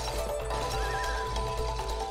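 Horse neighing in the co-op video game It Takes Two, a loud whinny with a rising then falling tone over steady game background sound, with faint hoof clip-clop.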